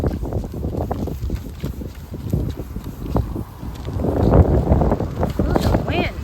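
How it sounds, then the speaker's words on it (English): Strong wind buffets the microphone outdoors, producing a loud continuous rumbling roar that swells toward the end and may carry a voice beneath it. "Ooh, the wind."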